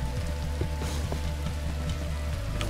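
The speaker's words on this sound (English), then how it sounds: "Also, it's raining, which is" Steady rain in the video game Minecraft Story Mode pours continuously, a dense even hiss with scattered droplet patters, loud and alone without speech.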